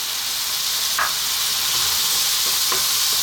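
Juicy regular-sized tomatoes sizzle steadily over high heat in a pan of curry base, with a couple of brief clinks of a spoon stirring through the continuous frying hiss; no voices.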